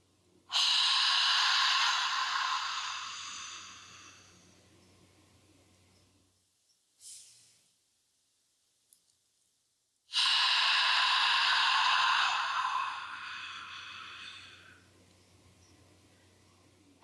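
A deep, long inhale of somatic ocean breath, a loud airy rush lasting several seconds, then a quiet pause with a brief faint breath before a second long, strong breath begins, heard alone.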